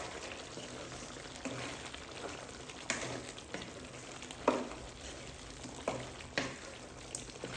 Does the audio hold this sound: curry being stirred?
yes